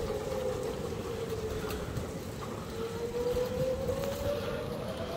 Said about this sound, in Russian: Слышите, сирены воют.